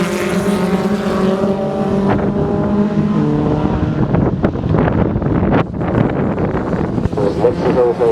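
A Formula Sheane race car passes at Kirkistown, its engine roaring loud and near against gusty wind noise, while a commentator talks throughout.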